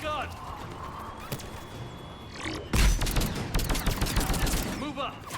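An enemy mounted gun in Mass Effect 3 keeps firing in loud, dense bursts of rapid shots that swell partway through. Battle noise and voices are mixed in.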